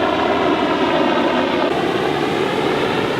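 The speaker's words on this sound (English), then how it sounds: "Check out this chopper, dude." Military helicopter passing over a beach in the Dominican Republic, its rotor and engine giving a loud, steady, close roar that holds evenly from start to end with no talk over it.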